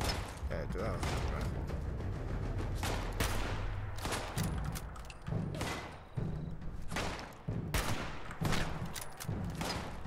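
Shotgun blasts in the video game Fallout 76 boom out one after another at uneven intervals, each heavy shot followed by mechanical clatter, loud and close over a busy game background, with a voice talking in between.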